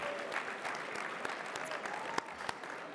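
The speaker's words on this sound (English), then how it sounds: "Give him a round of applause." Audience applause fills a brunch room at the LGBTQ+ Victory Fund National Champagne Brunch, steady dense clapping from a large crowd, fairly loud and sustained with a few sharper claps standing out.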